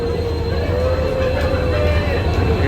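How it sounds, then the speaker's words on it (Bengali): Train pulling into a station platform near Siliguri, a loud, steady rumble with a thin whine running through it. "চলো বাবা, ট্রেন চলে এসছে যে ফাইনালি"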